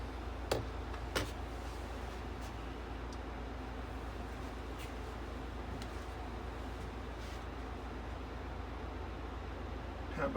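A 12000 BTU mini split air conditioner in an enclosed racing trailer runs its fan on turbo, giving a steady broadband whoosh heard from close by, with a few faint clicks and knocks.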